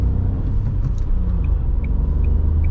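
Dacia Jogger 2023 with the 1.0 TCe 110 hp petrol engine and 6-speed gearbox pulling away at night, a steady low engine rumble and road noise from inside the cabin, with a few faint chirps above.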